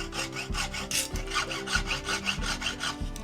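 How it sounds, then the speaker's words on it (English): Rat tail file rubbed back and forth against a metal floor drain grate, a close, rhythmic rasping of quick scraping strokes with no voices. "I'm going to just get the rat tail file or the chainsaw file and just put a couple of rubs just at these marks right here"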